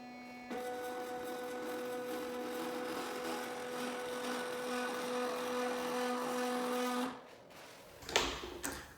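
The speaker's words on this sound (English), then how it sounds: "the user then uses the interface button to return motors to their home positions" A steady electric motor whine from a plunging motor and motor carriage returning to home positions runs for about seven seconds, fairly quiet and close, then stops with a few small clicks.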